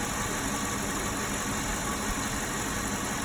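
A 2002 Lincoln Navigator engine idles with a kinked heater hose bypassed while it is watched for overheating. It gives a steady, close, even rumble and hiss throughout, with no talk.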